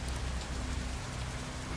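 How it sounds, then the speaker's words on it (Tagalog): Steady rain pouring down at night in an abandoned town in Mindanao, a dense, even hiss of drops on surfaces, close and continuous with no voices. "Habang naghihintay sa ulan"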